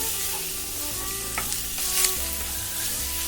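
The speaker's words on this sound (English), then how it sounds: "Then we can put in the beef. Again, stir them well." Beef stir-fried with rice noodles in a pan for beef ho fun, a close, steady sizzle with spatula scrapes and tosses, a constant low hum beneath.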